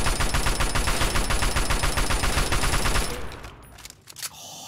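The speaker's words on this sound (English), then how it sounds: "oh, I love this fucking gun." Rapid automatic gunfire from a weapon in Fallout 3, a dense loud stream of shots for about three seconds before cutting off into quieter game sounds.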